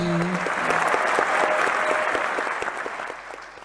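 An awards-ceremony audience in Manchester applauds warmly, a dense, steady patter of many hands close by that gradually eases off, with a voice briefly heard over it.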